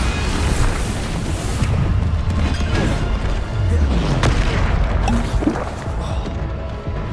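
Bombarda spell blasts in the game Hogwarts Legacy, heavy booming crashes and rumbling impacts layered with combat noise, loud and dense throughout, with a voice briefly calling out amid the action.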